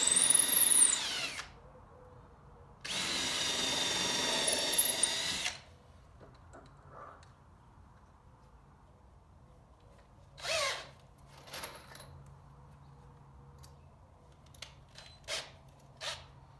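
A power drill driving screws into wood whirs in two long bursts, then a few shorter spurts and taps follow amid quiet stretches.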